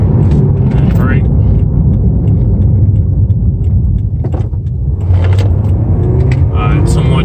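Car running repeated brake break-in passes with R1 Concepts brakes, accelerating to about 50 and then braking, giving a close, steady engine and road rumble that dips briefly mid-way, with a voice talking over it.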